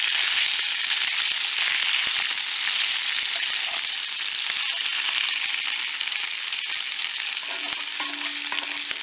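Pasta all'assassina crisping on the bottom of a hot pan sizzles and fries steadily at close range, a continuous bright crackle with occasional stirring scrapes and no talk.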